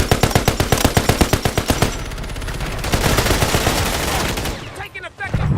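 Loud automatic gunfire in a first-person shooter video game, a rapid, evenly spaced burst of close shots that gives way to a denser, blurred roar of weapons and action noise, ending in a fading clatter.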